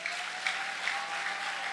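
Church congregation applauding during worship, a steady dense clapping that fills the space evenly for the whole moment, with no voices standing out.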